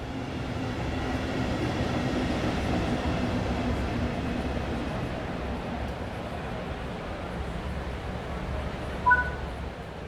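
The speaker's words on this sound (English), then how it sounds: "Your train has arrived." A Class 395 Javelin high-speed train arriving at a platform in Train Sim World 6, heard as a steady low rumble and rolling rail noise throughout, with a brief brake squeal near the end.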